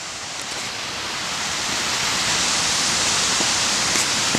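Cascade Falls in Patapsco Valley State Park, Maryland, pours in a steady broadband rush that swells slightly louder over the clip, with no talk over it.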